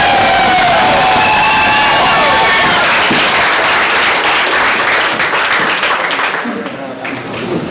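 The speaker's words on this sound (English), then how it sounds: "Everyone please make some fucking noise." A loud crowd cheers, whistles and applauds continuously at a rap battle event, the roar filling the space and thinning slightly near the end.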